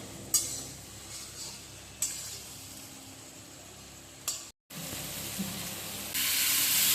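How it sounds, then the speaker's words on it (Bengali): Spice paste fries in hot oil in a pan for a rohu fish curry, a steady close sizzle and hiss broken by a few sharp utensil clanks and a brief cut, then swelling louder near the end. "যতক্ষণ তেল না বের হবে ততক্ষণ ভাজব"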